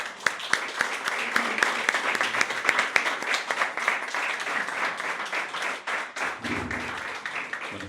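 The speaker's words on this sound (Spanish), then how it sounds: "Le damos un aplauso a nuestro Dios." Applause and clapping fill a church service for nearly eight seconds, a dense, steady burst from a congregation that fades near the end.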